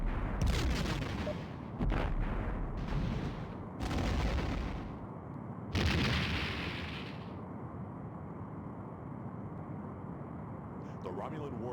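Ship weapons fire and explosions from the Star Trek: The Next Generation – A Final Unity video game, several loud booming bursts in the first half over a steady low rumble, then a long fading hum.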